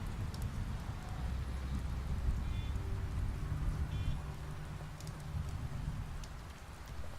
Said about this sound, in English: Nice touch with the rain.